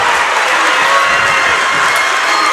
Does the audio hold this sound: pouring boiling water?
no